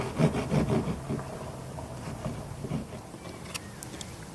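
A saw cuts through wood during a boat restoration on an Ohlson 38, a few close, rough rasping strokes at first that soften into a quieter scraping tail, with no talk.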